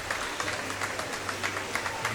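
The crowd at the British Bouldering Championships finals keeps up steady applause. The dense, even clapping carries at a moderate level through the whole stretch.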